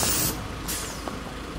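Air suspension on a lowered Volkswagen Saveiro vents as the front drops, giving a short sharp hiss up close followed by a second burst and a few faint clicks.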